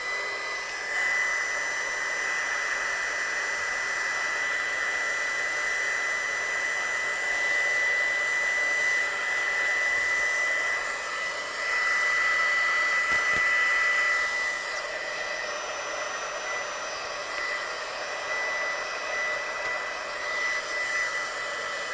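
Hair dryer blowing steadily at close range to dry ink on a stamped watercolour artwork, a continuous even whir that swells briefly louder midway before settling back.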